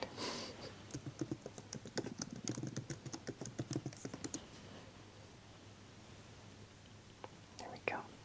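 Rapid, soft key clicks from a MacBook Air M4 keyboard as a password is typed, close and intimate in a quiet room, lasting about four seconds before trailing into near silence with one faint tap at the end.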